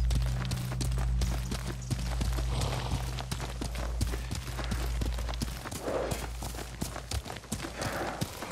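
Horse hooves clip-clop steadily throughout in the Ghost of Tsushima video game, a quick, even rhythm of moderately loud hoofbeats over a low ambient drone, with no one speaking.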